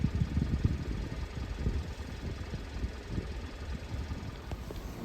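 A hunting vehicle's engine idles and pulls away during deer season in Manitoba, a low, rough rumble that stays faint and steady for a few seconds with no talk over it.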